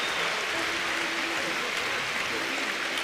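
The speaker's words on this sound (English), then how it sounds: "Nice round of applause for Paco." Crowd applauding a departing pitcher at a 1992 College World Series final between Pepperdine and Cal State Fullerton, a distant, steady stadium wash of clapping and crowd noise with a low voice underneath.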